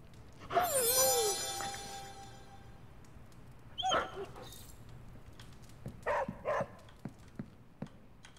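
Charlie the dog in the Midnight Suns video game gives a few soft whimpers and yips while being petted, short faint canine sounds spaced over a quiet background.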